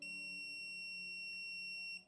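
A single sustained electronic beep from a Critical Connect battery foot switch, high and piercing, holding steady for about two seconds before cutting off, faint against a quiet background.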